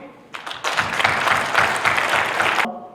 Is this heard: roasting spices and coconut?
no